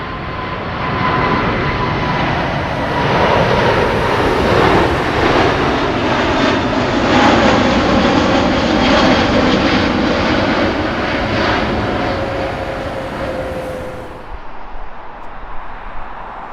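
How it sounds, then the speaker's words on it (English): An Emirates Airbus A380 roars past at Heathrow Airport, its engines a loud, broad jet rumble that builds, holds and slowly fades as the aircraft passes, with no talking. "From out of the mist is the Emirates A380, King of the Skies."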